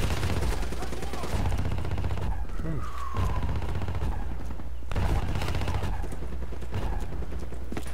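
Close-range gunfire in Call of Duty Black Ops 3 co-op campaign, dense rapid bursts filling most of the stretch with a short lull in the middle, loud and near over busy game sound.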